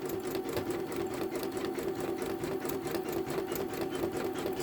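Janome Memory Craft 10001 embroidery machine stitching a scarecrow design on lightweight denim-like fabric, a steady, rapid mechanical whirring hum with fast rhythmic needle ticking, close and continuous throughout.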